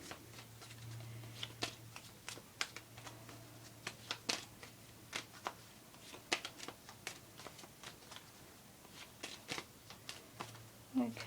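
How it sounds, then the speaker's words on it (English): Repeated crisp riffling bursts of tarot cards being shuffled, close and fairly quiet, in irregular clusters with a low hum in the background. "So I've got all my cards here, I'm going to shuffle them"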